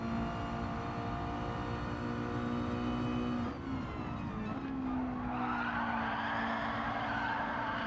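Race car in Gran Turismo 7 holding a steady high engine note, then breaking loose midway into a long broad tyre skid that washes over the engine drone to the end, loud and close.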